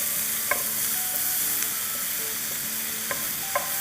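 Onions sauté in a hot pan, giving a continuous sizzle and frying hiss with a few soft clicks of a spoon stirring now and then. No one speaks over it.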